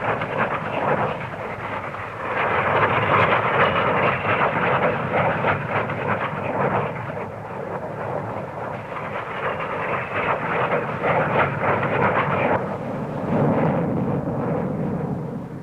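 An English Electric P-1 supersonic fighter flying at a 1950s Farnborough airshow produces a loud, sustained jet roar with surging swells and rumbling, heard without talk.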